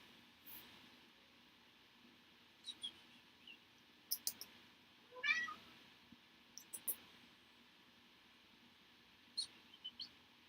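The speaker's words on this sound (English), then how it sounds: "my youngest cat is playing around with a pink pencil eraser." A young house cat bats a pink pencil eraser around, giving faint scattered taps and skitters spaced every second or so, plus brief high squeaks, in a quiet room with a low steady hum.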